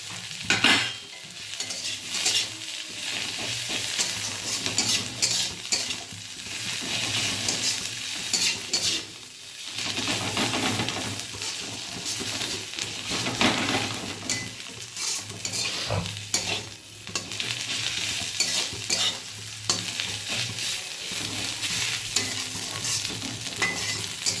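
Neem leaves and fried brinjal stir-frying in a pan produce a sustained, fairly loud sizzle with frequent spatula scraping and stirring noises that rise and fall throughout.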